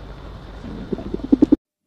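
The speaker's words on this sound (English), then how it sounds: "Pigeon." Pigeon cooing heard as a soft, low murmur that builds into three rhythmic throaty coos at the end, close to the microphone over faint breathy background noise.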